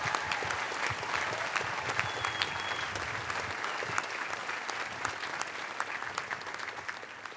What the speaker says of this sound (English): Let's have a warm round of applause for all of our graduates receiving advanced degrees.